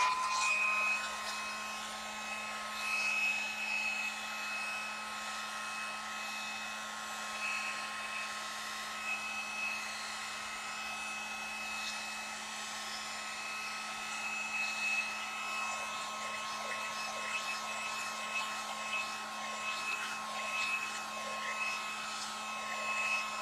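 A hair dryer blows steadily to dry paint on a stencil, a constant close whine with a strong steady tone running unbroken throughout.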